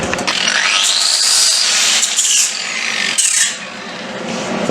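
Power tool grinding a weld bead round along a metal edge, a loud continuous rasping whine that shifts pitch as pressure changes, then eases briefly before resuming.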